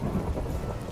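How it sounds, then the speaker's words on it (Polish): A thunderstorm in the Minecraft video game, with a deep rolling rumble of thunder over the steady hiss of heavy rain, continuous and fairly loud. "Nie lubię burzy."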